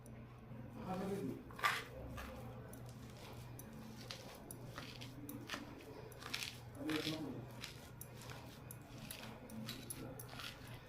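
Freshly washed spinach is chopped by knife on a cutting board in a home kitchen, a faint series of soft, irregular squishy cuts over a low steady hum.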